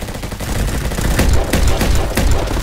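A revolver in the Roblox game Bad Business fires several loud, sharp gunshots at uneven intervals over a steady background of game noise.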